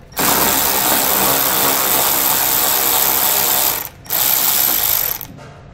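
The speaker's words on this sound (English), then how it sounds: "We're going to use a 7 millimeter socket to remove that bolt." Ratchet with a 7 mm socket removing a fender liner bolt on a 2015 vehicle, making a loud, continuous rapid clicking whir close up for about four seconds, a brief pause, then another short burst.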